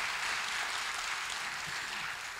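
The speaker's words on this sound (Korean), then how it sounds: "박수 그냥 쳐주세요." A broad wash of audience applause fills a university concert hall, even and sustained throughout, without any clear individual claps or voices standing out.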